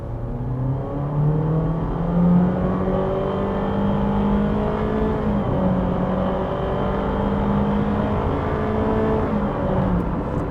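2023 Honda HR-V crossover accelerating in sport mode, a steady loud engine drone with slowly rising pitch and shifts heard from the cabin, road noise underneath, no speech.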